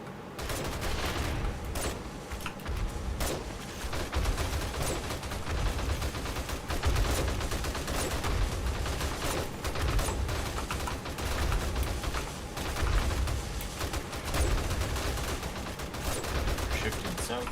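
Dense gunfire from a team shooting zombies in the survival game 7 Days to Die, rapid overlapping shots and bursts rattling almost continuously, with occasional talk beneath.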